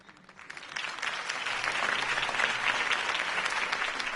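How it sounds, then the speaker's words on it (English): Steady crowd applause in a video game after a campaign speech, building quickly and holding, a dense wash of clapping from many hands. "could have heard that applause"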